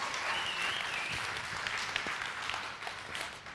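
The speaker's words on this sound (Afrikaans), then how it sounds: "Gee die Here hande klap" A church congregation claps hands together in dense, steady applause that runs unbroken throughout, fairly distant and even in level, with no voices standing out.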